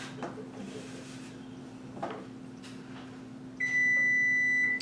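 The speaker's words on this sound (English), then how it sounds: "my oven's been preheating at 400 degrees, so now it's telling me that it is done" A kitchen oven signals it has finished preheating to 400 degrees with a steady, high electronic beep near the end, after a couple of soft clunks and handling noises in a quiet room.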